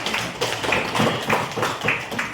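Schoolchildren in a classroom clap for a classmate, a brisk run of sharp, close hand claps at a steady rhythm, with little talking over them.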